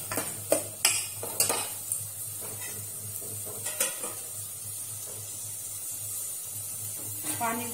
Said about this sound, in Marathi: ते पण मिक्स करून घेऊया मसाला।